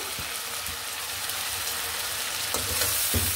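Ground cumin, garlic and onion paste frying in a pan, a steady close broadband sizzle with a few soft stirring knocks, no voices.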